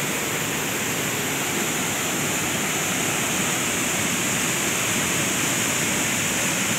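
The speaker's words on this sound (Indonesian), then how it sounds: "Kita menghadap ke air terjun." A waterfall at an outdoor tourist spot roars in a steady, dense rush of water, loud and unbroken throughout with no voices.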